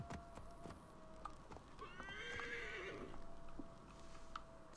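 A horse in the video game Assassin's Creed Discovery Tour gives a clear rising and falling whinny over soft clip-clop hooves and a faint background hum, with no talking.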